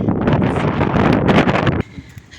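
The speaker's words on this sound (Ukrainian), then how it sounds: "Вітер піднявся" Wind gusts roar loudly into a nearby microphone for a couple of seconds, then cut off abruptly to quiet.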